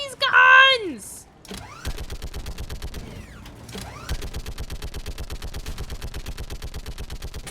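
Rapid bursts from a mounted machine gun in a video game, firing in long continuous strings after a brief electronic tone, loud and close with a short pause mid-clip.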